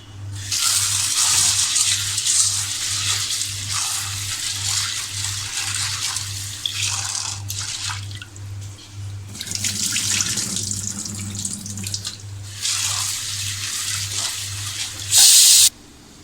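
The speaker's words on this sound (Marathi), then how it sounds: "आपल्याला हा साबुदाणा स्वच्छ 2 पाण्याने स्वच्छ पाण्याने धुवून घ्यायचा आहे" Sago pearls rinsed under a running kitchen tap: water gushes into the bowl in bursts, broken by short pauses and swishing as the pearls are stirred, ending with one louder rush; a low steady hum runs underneath.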